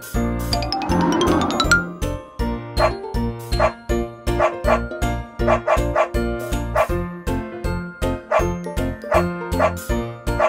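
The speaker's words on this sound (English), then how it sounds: "Dog." A cartoon dog barks repeatedly in a bouncy rhythm over a jingly children's song, each bark loud and clipped, following a chiming introduction.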